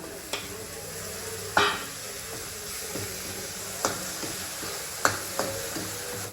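Soft, steady sizzling of tomatoes in hot oil, punctuated by several spaced clacks of a spoon stirring against the pan; no one speaks.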